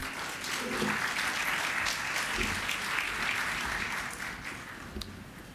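A seated audience at an evening lecture session applauds to welcome the speaker, with dense, sustained clapping that holds at a steady level for the whole stretch and eases slightly near the end.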